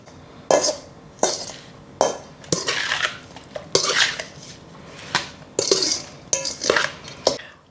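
Eggplant namul being tossed with green onions in a bowl, utensils clinking and scraping against the dish in about a dozen sharp, close knocks and scrapes at an uneven rhythm, with no talking.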